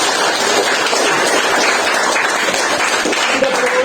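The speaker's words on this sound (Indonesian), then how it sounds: "Tepuk tangan untuk kita semua." An audience claps together during a children's motivational event, a dense, even wash of applause that stays loud and close throughout.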